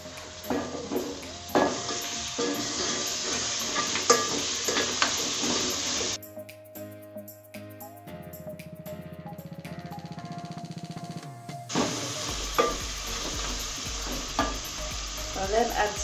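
Tomatoes stirred into frying goat pilau hiss and sizzle loudly with scraping strokes, fading to a pause with soft musical tones before the bright sizzling returns.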